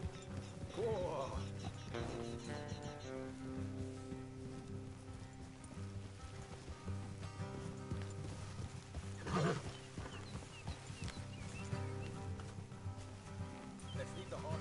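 Horses from a Red Dead–style cowboy video game snort and whinny with clip-clop hooves, set under a steady game soundscape and music, with a sharp burst of neighing near the middle and a voice talking over it.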